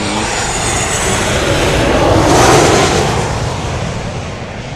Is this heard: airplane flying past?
yes